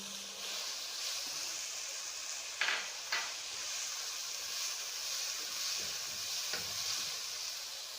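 Green chilies go into a pan of frying onions and mince, a steady soft sizzle with a couple of brief scraping stirs, quiet and continuous without any talk.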